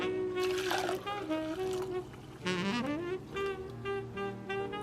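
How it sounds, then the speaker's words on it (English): Homemade herbal tea poured into a cup, a continuous liquid trickle and splash rising in pitch as the cup fills, close and fairly quiet with short pauses between pours. "So what I'm going to do is just pour it in there."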